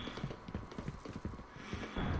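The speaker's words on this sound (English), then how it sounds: "I hear footsteps all over." Footsteps in the shooter game Gotham City Impostors patter quickly and irregularly, a quiet run of soft clopping thuds under faint game ambience.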